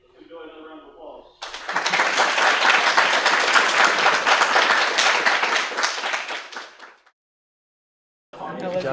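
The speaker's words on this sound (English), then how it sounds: "Let's enjoy another round of applause" A live audience at a talk on the history of feminism breaks into loud, sustained applause that swells after a short stretch of speech, holds steady for several seconds, then cuts off before talk resumes.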